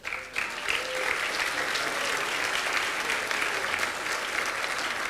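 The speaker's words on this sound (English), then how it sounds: "Please come forward individually to receive our applause" An audience applauds a Cum Laude inductee at a 2016 commencement ceremony, a brief dip at the start and then a full, sustained wall of clapping from a large crowd, loud and even to the end.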